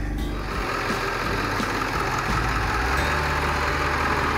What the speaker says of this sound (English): So this cold-blooded diesel engine